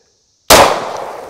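A single sharp, loud gunshot from a Glock pistol firing a Federal HST 124 grain hollow point into a purple water jug, with an abrupt crack after brief silence and a short decaying tail.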